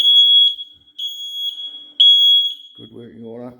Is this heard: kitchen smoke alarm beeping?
yes